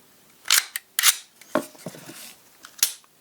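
Crisp metallic clicks and snaps as a Ruger RXM pistol slide, with barrel, recoil spring and guide rod installed, is slid back onto the frame, a handful of close, separate clicks with quiet gaps and no talking.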